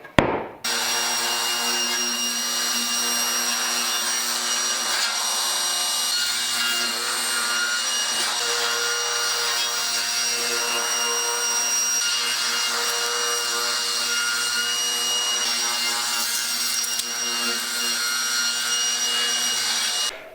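Table saw with a new crosscut sled cutting a hardwood end grain cutting board blank: a steady, loud, continuous whine and cutting roar lasting nearly twenty seconds, close by with no talking.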